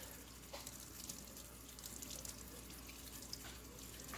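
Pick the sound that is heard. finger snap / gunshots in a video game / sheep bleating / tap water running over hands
tap water running over hands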